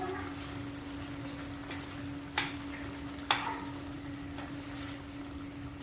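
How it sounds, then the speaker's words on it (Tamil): Paneer gravy bubbling and sizzling in a pan until the oil separates, a low steady fry with two sharp spoon clinks and faint stirring, plus a constant hum underneath; no one speaks. "எண்ணெய் பிரிகிற வரைக்கும் வச்சிருந்து கொத்தமல்லி தலையை தூவி இறக்கிற வேண்டியதான்"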